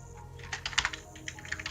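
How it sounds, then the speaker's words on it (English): Typing on a computer keyboard: bursts of quick, close, irregular key clicks, some louder than others, over a faint steady background hum. "Bear with my bad typing"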